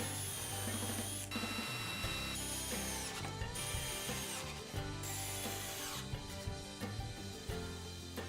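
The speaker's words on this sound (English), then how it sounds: "screw the bedside rails in like this" Wooden bedside rails being screwed into a bed frame, heard as a steady mechanical ratcheting and whirring of a driver working continuously beneath background music, with no speech.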